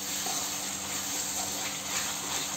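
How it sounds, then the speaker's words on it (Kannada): Brinjal pieces frying in a pan for an Andhra-style eggplant gojju, a steady close broadband hiss and sizzle that holds evenly throughout with no one talking. "ಫ್ರೈ ಮಾಡ್ತಾನೆ ಇರಬೇಕು ಒಂದು 2 ಟು 3 ಮಿನಿಟ್ಸ್ ವರೆಗೂ ಚೆನ್ನಾಗಿ ಫ್ರೈ ಮಾಡಬೇಕು"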